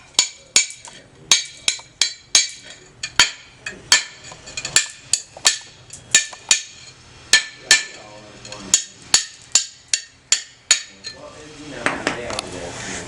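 Glass being chipped with a hand tool, a rapid run of sharp, bright strikes and clinks repeating at an uneven rhythm, loud and close, with a brief scraping rumble near the end.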